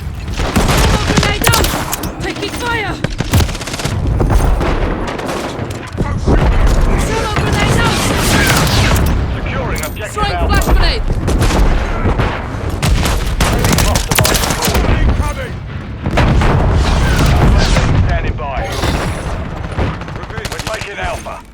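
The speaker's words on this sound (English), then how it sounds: "Thermal grenade out! Taking fire!" Video-game battle with rapid bursts of gunfire and booming grenade explosions, loud and dense, with shouted voice callouts layered over the combat.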